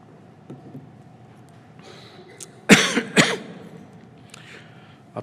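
Two sharp, close coughs break out in quick succession during a quiet sermon, standing out against faint room tone.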